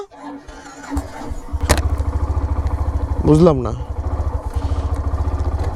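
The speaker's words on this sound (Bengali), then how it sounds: "বাইকটা স্টার্ট হয়েছে" A Hero Xtreme 125R motorcycle engine starts and settles into a steady, close idle with a rapid even putter, while someone speaks briefly over it.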